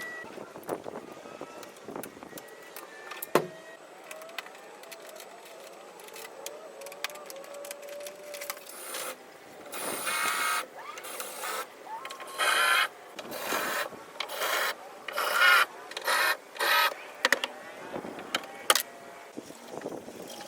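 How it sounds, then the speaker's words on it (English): A power drill bores out rivets holding the tray rack bases in the bed of a Raptor truck. Several loud, rough bursts of drilling come in the second half, separated by short pauses, after a quieter stretch of handling noise. "so we can get to all these rivets in here and drill them out"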